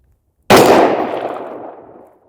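A single rifle shot fired with Atomic 77-grain tactical law enforcement match ammunition: one sharp, loud blast that cuts in suddenly, then rolls off in a long echoing tail over about two seconds, with no voices.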